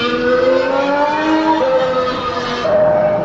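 Recorded Mercedes-AMG Formula 1 car engine played back through a small device at a Mercedes showroom, a high, thin whining note sweeping upward through several gear shifts, steady and moderately loud with no talk.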